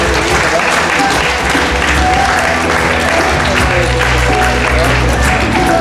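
Audience applause for young women in traditional red Quimper Breton costume at a Noz Kalon festival, a dense steady clapping that fills the whole stretch, loud and continuous with crowd noise mixed in.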